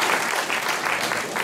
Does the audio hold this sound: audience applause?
yes